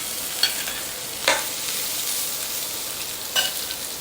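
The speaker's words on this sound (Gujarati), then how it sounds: "હવે એની અંદર આ ભીંડા ઉમેરી લેવાના છે." Okra stirred and frying in hot oil with mustard seeds and asafoetida, a steady close sizzle with a few sharp stirring scrapes, no voices.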